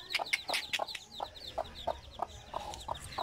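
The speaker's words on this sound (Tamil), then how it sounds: "நாலு கோழி குஞ்சு தான் இருக்கு இப்ப." A farmyard hen with her young chicks clucks in short, evenly spaced bursts, close and fairly quiet, with faint high peeps from the chicks between the clucks.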